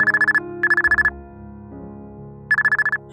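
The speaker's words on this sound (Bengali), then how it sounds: "ঠিক তার 5 কি 7 মিনিট পর বেজে উঠল মায়ের ফোন।" A mobile phone ringtone plays in quick bursts of repeated bright trilling tones, stopping and starting again over a soft melodic backing.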